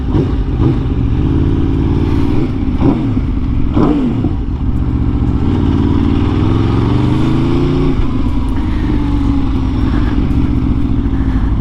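A loud, close 2022 Aprilia RSV4 1100 Factory sport motorcycle engine, still being broken in, idles roughly, then blips through several sharp revs before settling into a sustained, rising drone.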